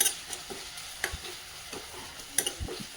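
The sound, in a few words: onions frying and being stirred in a pan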